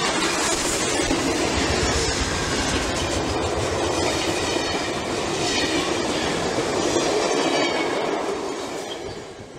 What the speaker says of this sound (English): we follow Santa Fe Northern number 3751 as she pulls a small employee excursion train over the line